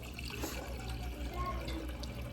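Water poured into a container, a soft continuous trickling and splashing that stays at a moderate level throughout, with no talking.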